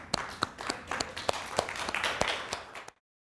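Theatre audience clapping for a screening of the zombie film Fido in Armstrong, B.C., a ragged spread of individual claps with sharp separate hits, moderately loud, lasting about three seconds before cutting to silence.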